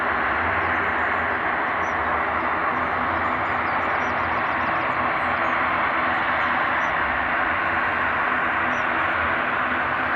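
A freighter aircraft at Edinburgh International Airport gives off a loud, steady broadband engine roar that holds at an even level for the whole stretch, with no voices.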